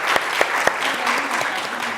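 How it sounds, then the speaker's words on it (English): An audience at a brain tumor patient and caregiver panel gives the guest speakers a warm round of applause: dense, sustained clapping from a sizeable crowd, with a few louder individual claps standing out near the front. "It is our privilege and honor to thank our guest speakers here on the panel for sharing their stories and their journeys with us. Let's give a round of applause."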